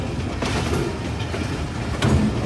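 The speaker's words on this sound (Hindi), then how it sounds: "और हम लोग गुजरने वाले हैं मलकवाल की डायमंड क्रॉसिंग से।" Mianwali Express rolling over the diamond crossing at Malakwal Junction, a steady rumbling of wheels on track with a few sharp clacks as the carriage passes the crossing, heard from inside the train.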